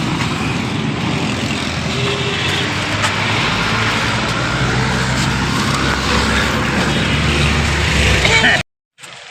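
Steady engine and road rumble from inside a shared passenger car on a trip to Golra Sharif, loud and continuous with people talking, cutting out abruptly near the end.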